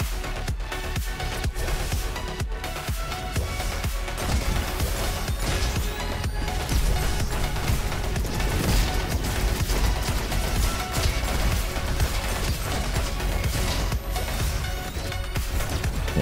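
Rapid, continuous weapon fire from the action roguelike shooter Roboquest, a dense barrage of repeated sharp shots and impacts running steadily and loudly throughout with no talking.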